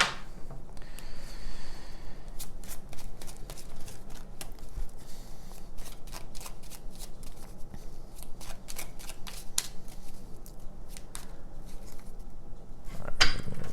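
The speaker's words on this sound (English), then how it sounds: "All right, shuffle your cards." Tarot cards being shuffled by hand, a quick run of crisp riffling snaps and flicks repeating steadily at close range, with no voices.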